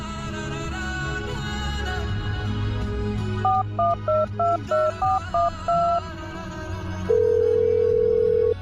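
A telephone dials a call: a quick run of short keypad tones plays over background music, followed by a long steady line tone.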